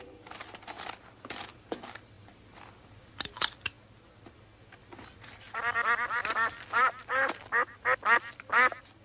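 Nasal duck quacks from a duck-headed zombie in a French horror-comedy film, a run of rapid quacks in the second half after scattered sharp clicks and rustles, moderately loud.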